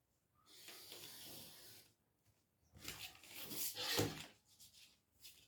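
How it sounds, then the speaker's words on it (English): Pencil drawing a line on a paper sleeve pattern, with faint soft scratchy strokes in two short bursts and no talking. "I'll draw the line."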